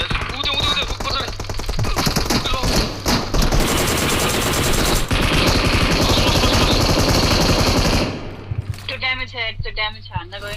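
Gunfire in the PUBG Mobile video game: a dense, loud barrage of rapid shots and thuds that runs continuously for about eight seconds, then breaks off into quieter scattered sounds with voices.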